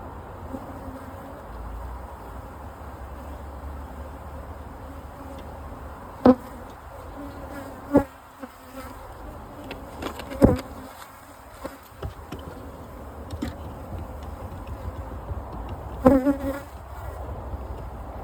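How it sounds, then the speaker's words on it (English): Honey bees drone steadily at a hive top feeder filled with sugar syrup, a close continuous buzz broken by a few sharp knocks and clicks. "the bees coming up from the bottom of the hive"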